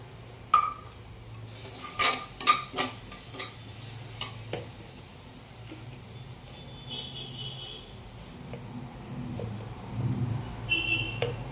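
Turmeric sautéed in oil in a pan for matar paneer, with a soft sizzle and repeated scraping, stirring knocks of a spoon against the pan, fairly quiet and close.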